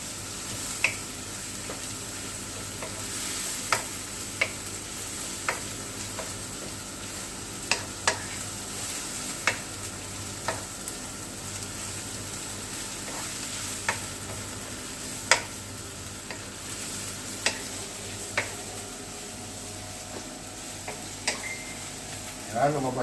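Garlic and onion saute in a pan with a faint steady sizzle, punctuated by regular sharp taps and scrapes of a spatula stirring, with a person talking softly at times.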